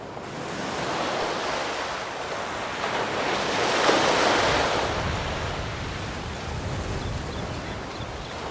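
Sea waves roll and wash in a steady broadband surge in A Plague Tail: Requiem, swelling slightly mid-way with a faint wind-like hiss throughout, no voices.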